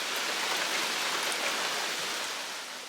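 Steady rain falls outside a workshop where a Triumph Herald 13/60 is being restored, a dense even hiss of drops on surfaces that stays constant and fades slightly at the end.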